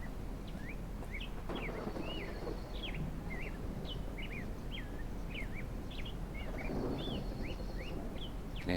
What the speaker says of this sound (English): I can hear something chirping.